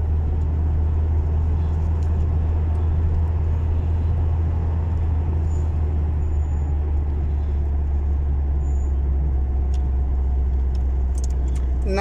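Continuous close road traffic near an intersection by a bridge, a steady heavy engine rumble with vehicles passing, and faint jingling on top; no other sounds stand out.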